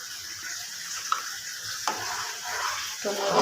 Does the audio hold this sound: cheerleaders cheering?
no